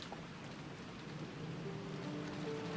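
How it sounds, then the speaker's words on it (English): Rain in the Umineko visual novel, a faint, even patter of falling rain with a soft hiss that continues steadily without pause. "listening to the sound of the rain"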